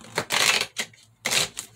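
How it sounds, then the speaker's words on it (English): A new, stiff tarot deck being shuffled up close, with two bursts of riffling and slapping card noise separated by short pauses, no talking. "Okay, I'm going to shuffle this on camera."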